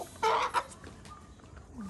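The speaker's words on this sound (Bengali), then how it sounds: "এই মুরগিটা একদম কেটা ছিল কত বড় হয়েছে" A village hen clucks close by in a short burst of two or three throaty notes, followed by softer scratchy background sounds.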